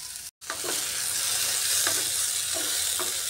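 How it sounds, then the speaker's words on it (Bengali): Pointed gourd (potol) pieces fry in oil over a medium gas flame, a continuous bright sizzle broken by a brief dropout near the start and a few soft stirring clicks. "গ্যাসের আঁচটা মিডিয়ামে রেখে পটলগুলো একটু ভেজে নিচ্ছি।"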